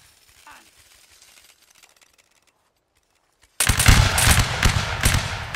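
Sudden dense crackle of musket volley fire in a Napoleonic line battle game erupts after a quiet stretch of faint clicks, a loud sustained burst of overlapping shots filling the second half.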